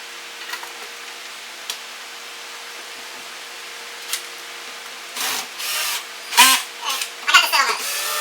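A drill driver set to its lowest torque runs screws into a Boss Katana Artist MK1 guitar amp, giving several short buzzing whirs with clicks toward the end, after quiet taps and small handling noises.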